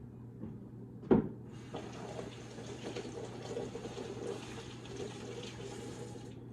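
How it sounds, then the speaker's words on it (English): Tap water runs steadily into a kitchen sink while broccoli is washed, a soft continuous hiss with a brief louder splash or clunk near the start. "you're gonna grab another thing of broccoli. You're gonna wash it."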